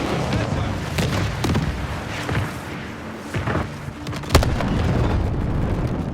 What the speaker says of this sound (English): the way they played out the airstrike